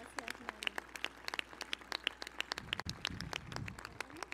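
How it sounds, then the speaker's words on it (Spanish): Applause from the audience at a solemn swearing-in session, a dense patter of hand claps that carries steadily through the clip, with scattered louder claps and a low room murmur underneath. "Aplausos."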